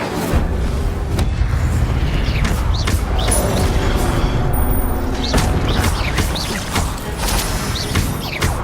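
An Incendio fire spell cast in Hogwarts Legacy gives repeated bursts and whooshing impacts over dense game sound, with sharp booming hits spread across the clip.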